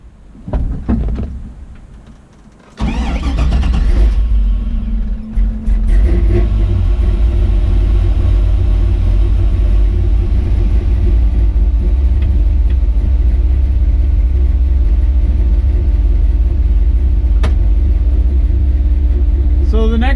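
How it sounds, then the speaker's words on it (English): A pickup truck with a freshly reinstalled transmission starts and runs: after a few seconds of rustling and a door clunk, a loud, steady low engine rumble drones close by for the rest of the span. "Now we can take it for a drive."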